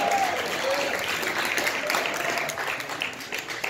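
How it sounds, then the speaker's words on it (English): An audience at a jam session breaks into applause, a dense spatter of clapping that holds steady and then thins slightly toward the end. "One round of applause for Arik one more time for being a tzaddik"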